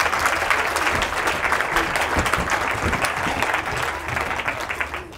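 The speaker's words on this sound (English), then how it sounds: "Can we have a round of applause for the soil and the water people?" A festival audience at a university and primary school event gives a steady, full round of applause that carries on evenly and eases slightly at the end.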